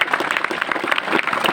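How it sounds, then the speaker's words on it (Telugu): An audience gives sustained, dense applause for government schools, with many hands clapping steadily at close range throughout. "ప్రభుత్వ పాఠశాల ఒకసారి గట్టిగా చప్పట్లు కొడదాం మనం."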